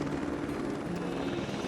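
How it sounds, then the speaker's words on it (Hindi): A helicopter's rotor thuds in a steady, low drone, holding constant and fairly distant throughout. "ये हेलीकॉप्टर"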